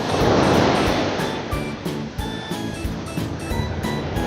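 Dangerous sea waves surge and break one after another on a Kuwait shore, a loud continuous roaring wash with repeated crashing pulses up close, and no voices heard.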